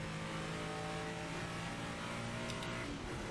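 A race car in Project Motor Racing, a GT icon on track, accelerates out of a corner with a steady, dense engine roar held at constant loudness, a brief high tire squeal near the end, no talk.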